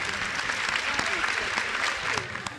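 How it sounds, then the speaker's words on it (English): An audience breaks into lively applause, a full and continuous patter of many hands with a few sharper claps standing out near the end. "Clap it up, clap it up, clap it up,"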